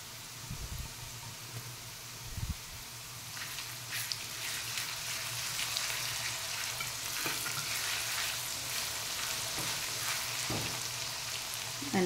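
Crushed ginger drops into a hot oiled pan while sabudana khichdi is being made. A steady, close sizzle and crackle runs throughout, with a couple of soft thumps near the start.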